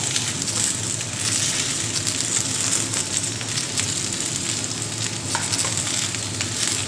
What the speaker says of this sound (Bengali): অল্প অল্প তেল দিয়ে যদি ভেন্ডিটাকে আগে প্রথমে একটু ভাজা করে নেন